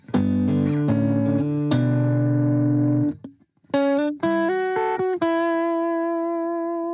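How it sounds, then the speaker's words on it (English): Electric guitar through a Dynacomp compressor pedal, Fender Bassman amp model on a Line 6 POD Go, plays sustained chords and then a run of single notes, evenly squeezed in volume with long smooth sustain, ending on a ringing held note. "I'm going to use a compressor like the Dynacomp"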